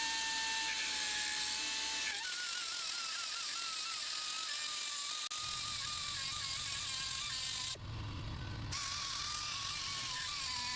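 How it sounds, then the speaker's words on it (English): A die grinder with a carbide burr smooths a hole in a stainless steel knife blade, giving a high, steady whine that shifts pitch under load, with brief grinding contact and a short pause near the end. "finishing up with a die grinder and a carbide burr"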